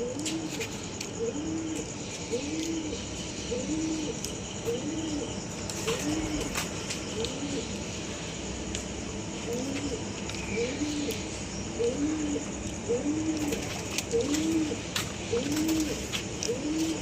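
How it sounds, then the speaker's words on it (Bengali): Pigeons at a rooftop loft during a summer racing tournament, cooing in repeated soft rolling phrases at a steady rhythm over a constant background hiss, with a few light chirps. "এই যে 6টা পায়রা"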